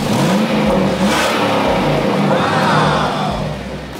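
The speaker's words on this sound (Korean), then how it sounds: "배기량이 크고 엔진 소음이 막 어마어마하게 멋지게 나서" A 2005 Chevrolet Avalanche pickup with a 5300cc V8 revs loudly and close up, the engine note rising and swelling through the middle before easing off toward the end.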